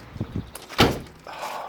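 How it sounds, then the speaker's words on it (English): The door of a 1972 Range Rover swings and shuts with one solid, close thunk, preceded by light handling clicks, with a quiet shuffling afterward. "Oh, look how that door closes."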